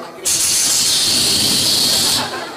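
A voice imitates the loud, steady hiss of tempe, tofu and crackers frying in oil, a sustained bright sizzle running about two seconds without a break.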